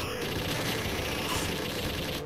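Gunfire from the Alien 3: The Gun arcade game fills the space in a dense, continuous rattle of rapid shots. It runs steady and loud from start to finish.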